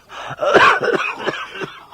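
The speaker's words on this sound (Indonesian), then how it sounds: "batuk mau mengeluarkan darah lagi." A man coughs hoarsely several times in a short, rough burst, close and alone, with a harsh throat-clearing quality.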